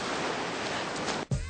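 Ocean waves break on a beach as a steady, loud wash of broadband surf roar that fills the whole moment, with a brief dip and a low thump near the end.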